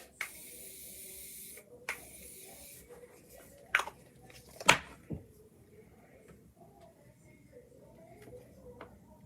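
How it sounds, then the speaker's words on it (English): Makeup setting spray misting from a pump bottle, a soft hiss at the start followed by a few quick spritzes, close by amid faint handling noise. "Let's do a little bit more setting spray,"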